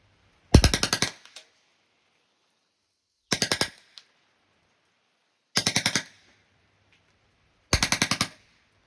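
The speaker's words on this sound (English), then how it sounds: "So you figure 6-round burst, 30 rounds, you only have 5 trigger pulls and you're empty." An '05 Bakail Drodz fires four separate six-round bursts during a shooting test, each a loud, rapid clatter of about half a second with long pauses between them and no talking.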